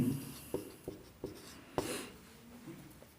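Chalk or marker strokes on a classroom board during a chemistry lesson on quantum numbers, several short scratchy taps and scrapes in an uneven rhythm, fairly close and alone with no talking.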